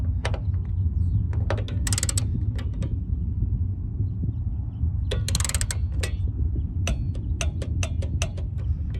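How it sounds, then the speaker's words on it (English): A torque wrench tightens a bolt on a tailgate damper fitted to a Chevy Silverado, giving bursts of quick close ratcheting clicks, first short then longer runs, over a steady low background hum. "Now we do have to put a torque on this. They say 8 foot-pounds, so I'm going to cinch this down a little bit."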